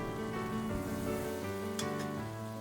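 Sliced small hot red chili and a mild large chili with fresh curry leaves sizzle in butter in a pan, a steady close crackling fry heard alone with faint stirring clinks.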